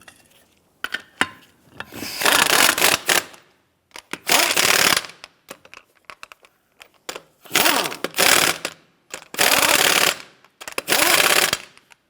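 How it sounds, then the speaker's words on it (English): Lug nuts being run onto the wheel studs of a 1992-1996 Toyota Camry with a power tool, loud harsh rattling bursts of one to two seconds repeated several times with quiet gaps between. "And get our lug nut started."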